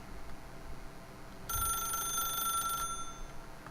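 Telephone ringing in The Stanley Parable: a single bright, buzzing bell ring of just over a second rises out of a low background hum, no talk.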